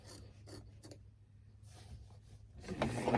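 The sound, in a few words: cutting fabric while lifting it up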